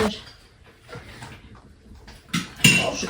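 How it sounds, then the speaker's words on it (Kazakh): Clean washed dishes set upside down onto a dish rack in a home kitchen, giving a few scattered clinks and clatters, with a louder crockery knock near the end and faint voices in the background. "Қызым жуғандарын да ыдысқа төңкеріп тысты."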